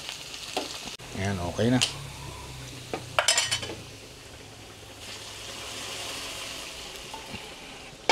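Onion and garlic hit a hot pan and sauté for a Kapampangan chicken pineapple sauce, a soft sizzle with clanks of a spatula stirring against metal, while a voice talks briefly over the cooking.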